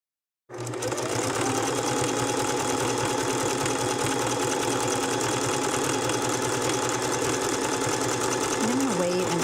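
A sewing machine stitching a fabric rope bowl, its motor running as a steady, continuous whirring hum for the whole stretch, close and fairly loud, with a faint voice underneath.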